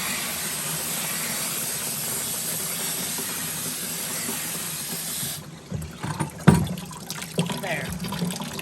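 Soaked beet pulp rinsed under running water: a steady, close rushing hiss for about five seconds, then it cuts off into scattered wet splashes and handling knocks.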